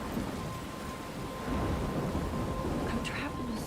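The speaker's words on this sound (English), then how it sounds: "I'm trapped in a storm?" A thunderstorm in the video game Life Is Strange: rain hisses steadily while low thunder rolls and swells partway through, all fairly faint.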